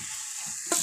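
Onions and tomatoes sautéing in a pan for a chana masala gravy, a steady soft sizzle with scraping stirring strokes and a brief louder stir near the end.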